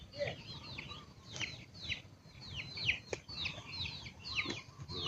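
Free-ranging chickens on a Philippine farm cluck and chirp softly in overlapping bursts, with faint background rustling and one sharp tap.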